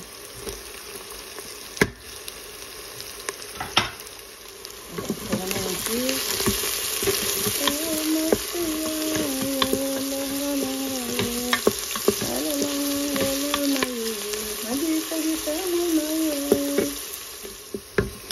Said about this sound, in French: Ça fait griller aussi les épices.